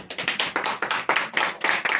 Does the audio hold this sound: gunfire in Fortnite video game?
no